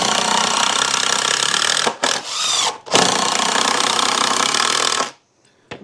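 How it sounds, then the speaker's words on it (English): A power driver sinks screws into wooden 4x4 and 2x4 boards for a raised tomato bed stand, a loud close whirring burst followed by two short breaks, another long run, then a sudden stop. "I'm just going to screw the screws in"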